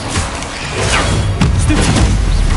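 Bombarda blast spell in Hogwarts Legacy: a loud, dense booming explosion with a sharp crack partway through, followed by rumbling debris and whooshing effects over a sustained roar.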